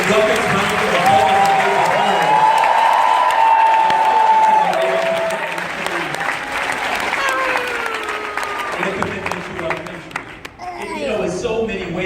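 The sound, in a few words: crowd applause welcoming veterans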